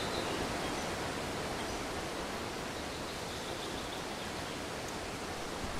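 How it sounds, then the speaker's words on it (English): A loud waterfall in a video game gives a constant, even roar of rushing water that fills the whole stretch without pause. No voices are heard over it. "Very loud waterfall again."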